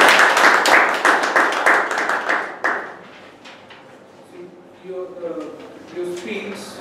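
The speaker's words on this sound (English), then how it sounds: "I would like to request all of you to give a round of applause" An audience in a meeting gives a round of applause, a dense burst of clapping that fades over about three seconds into scattered claps, followed by a voice speaking.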